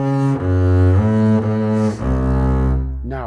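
A low instrument plays a sustained legato phrase from the Ode to Joy in Beethoven's Ninth Symphony, several held notes moving stepwise, loud and close, with a brief pause before the final note.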